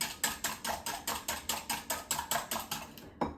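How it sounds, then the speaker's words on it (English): Egg yolks are whisked hard in a bowl: a quick, even series of light clicking strokes, roughly five per second, close and fairly quiet, with no talking. "I'm gonna whisk them really well, because I like to have my yolks really whisked."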